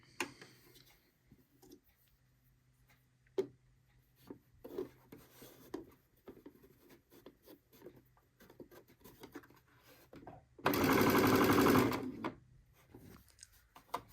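A sewing machine stitches piping onto a dish towel in one steady, loud run of about a second and a half, after scattered soft handling taps and fabric rustles.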